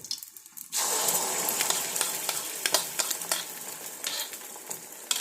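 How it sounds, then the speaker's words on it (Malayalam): Oil poured into a pan on a lit stove starts a sudden, continuous sizzling hiss that stays fairly loud, with small crackles and pops throughout and no talking. "ചട്ടിയിലേക്ക് എണ്ണ ഒഴിച്ചിട്ടുണ്ട്"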